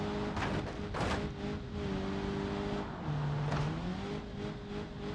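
Damaged car engine with blown piston rings in BeamNG.drive drones steadily under load, its rough tone shifting in pitch as it revs, with sharp pops and bangs breaking through at intervals.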